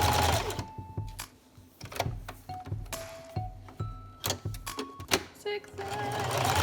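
A sewing machine zigzag stitching newborn baby pants, its needle whirring in close, rapid bursts that start and stop repeatedly with brief pauses and small clicks as the fabric is guided.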